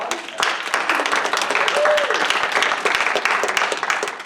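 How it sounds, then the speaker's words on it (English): Audience at an improv comedy show breaking into applause, a dense, continuous wash of clapping from many hands, fairly close and loud, with a voice talking over it. "Round of applause, round of applause."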